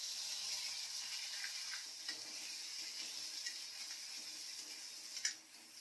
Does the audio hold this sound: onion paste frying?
yes